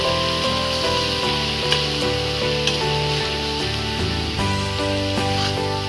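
Bengali-style dry fish curry with crushed garlic and salt being stirred in a frying pan, a steady close sizzle with soft scraping of the spoon, accompanied throughout by background music.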